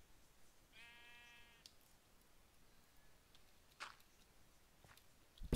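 A sheep in a Minecraft-style video game lets out one clear, wavering bleat, quiet and close, followed by a few faint clicks and thumps of game play.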